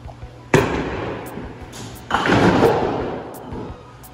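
Two sharp wooden knocks of candlestick bowling pins being hit at a Jellystone Park campground in Larkspur, Colorado, each followed by a rattling, rolling clatter; loud and close with no talking.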